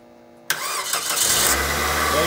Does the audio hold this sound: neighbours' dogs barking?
no